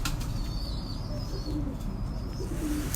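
A female pigeon coos softly nearby, low murmuring calls repeating over a faint background hum, with a hint of wing flutter and no talk.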